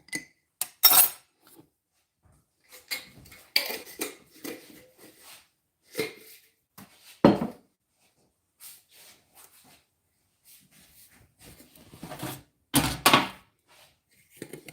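Metal baking pans for English muffins clink and clatter in scattered, sharp knocks at close range, with quiet gaps between handling sounds and no talking.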